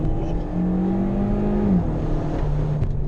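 A turbocharged car in sport mode accelerates hard, the engine note rising steadily then dropping at a shift before climbing again, heard from inside the cabin with no talking.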